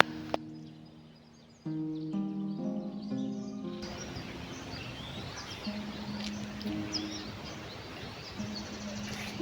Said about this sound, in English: I came here to just chill as I listen to the birds